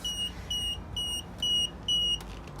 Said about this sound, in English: It's beeping at me now because it's not getting any power through